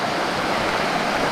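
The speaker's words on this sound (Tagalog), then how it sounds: "yung kuliglig tsaka yung agos ng ilog" A river flows past a hut near Linasin Falls in Pundaquit, San Antonio, Zambales, surrounded by mountains and trees; a steady, dense rush of water fills the short clip evenly, near and loud, with no voices.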